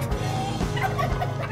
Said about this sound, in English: We have a bunch of chickens running around.